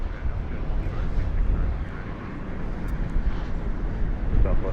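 Two airplanes take off together at Las Vegas Harry Reid International Airport, heard as a steady distant engine rumble blended with wind noise, fairly loud but indistinct and with no voices.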